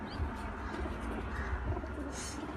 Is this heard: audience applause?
no